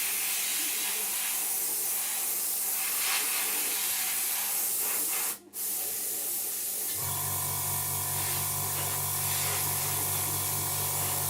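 Airbrush hissing steadily as it sprays paint onto a Revell 1/72 Transall model aircraft, a continuous close airy spray with a brief dropout midway, then a low steady hum joins the hiss.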